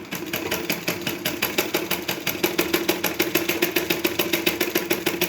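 A sewing machine stitching a blouse runs at a steady, fast, even clatter of needle strokes, several per second, close and unbroken throughout.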